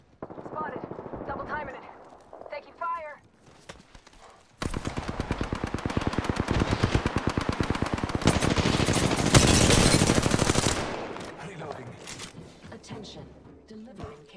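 Sustained rapid automatic gunfire in Apex Legends rattles loud and close for several seconds, with earlier scattered shots and game voice lines around it, and the fire fades into quieter bursts at the end.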